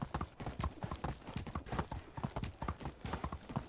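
Horse hooves clip-clop in a steady, fairly close rhythm in the medieval life sim Medieval Dynasty, the beats continuing with no talk over them.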